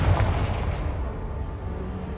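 A Confringo blasting spell explodes in the Hogwarts Legacy video game, a loud booming blast with a sharp onset that rumbles on heavily and steadily through the whole stretch.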